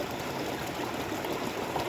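Fresh mountain stream water flowing steadily, a dense, continuous rushing and babbling wash that holds an even level for the whole stretch with no voices.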